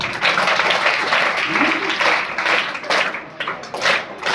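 An audience at a school event applauds a young schoolgirl, a burst of mixed clapping that swells and thins over a few seconds, close and lively.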